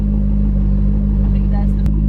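A Chevrolet C6 Corvette engine runs at a steady idle, with a loud, deep, even rumble that holds unchanged throughout.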